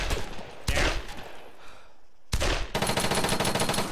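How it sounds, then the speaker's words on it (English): Gunfire in the video game Arma 3: loud rapid bursts of automatic fire, one burst, a brief pause, then another sustained close burst, with no talk. "We're getting shot at."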